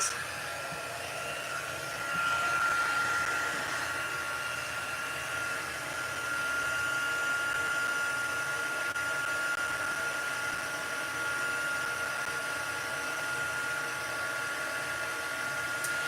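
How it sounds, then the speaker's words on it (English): A heat embossing tool blows steadily over a stamped card, a constant close whirring hiss like a small hair dryer that runs without pause and with no talk. "I'm gonna go ahead and emboss it."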